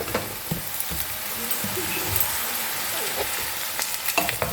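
Boiled green jackfruit sizzles steadily in a pan for a shrimp curry, a continuous close frying hiss with occasional crackles and a few stirring knocks, no voices.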